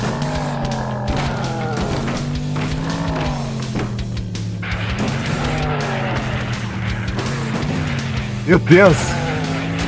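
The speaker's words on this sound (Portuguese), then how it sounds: "esse efeito aí do turbo dá a impressão que tá uma velocidade absurda às vezes" Video game car engine from Earn to Die 2 drones loud and steady with a rising turbo boost whine and brief tire squeal near the end, while a voice exclaims over it.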